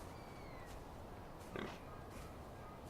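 A pig in the video game Far Cry 4 gives a single short, faint grunt midway through, over a steady background hiss of ambient game noise.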